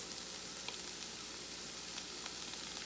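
Leftover rice sizzles and fries in a hot pan, making a soft, continuous crackling hiss with a few faint ticks on top, heard close but quiet.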